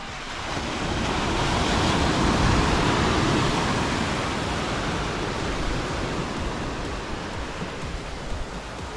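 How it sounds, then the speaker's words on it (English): Big ocean waves break and roll onto a beach at Albany in Western Australia, a steady, loud broadband roar of surf that swells and fades, with some wind buffeting the microphone. "I want to film because I have big waves."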